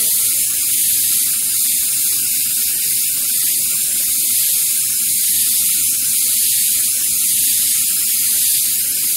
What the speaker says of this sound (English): So I'm going to just spray the shadow side.